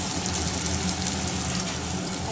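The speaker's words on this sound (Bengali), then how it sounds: "আর চিমনিটা চালানো হয়েছে বলে ওই জন্য এত আওয়াজ হচ্ছে।" A kitchen chimney exhaust hood runs at close range while bhujia is cooked, giving a loud, steady broadband whoosh that holds constant throughout.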